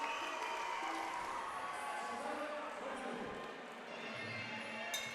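Crowd applauding and cheering at a kickboxing fight between rounds, a broad wash of clapping and murmur throughout, with a commentator speaking over it.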